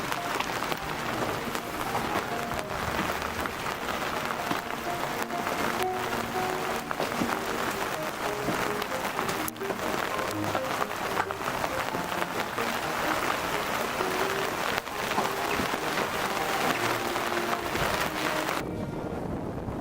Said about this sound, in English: this was the only point where we really experienced rain